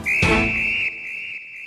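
A single long, shrill whistle blast held for over a second, clear and close, fading slightly toward the end.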